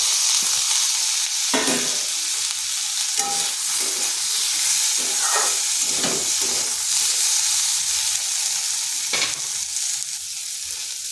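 Potatoes sizzling as they fry in a pan while cooking karala chachri, a steady close hiss of oil with occasional stirring scrapes and clatter throughout.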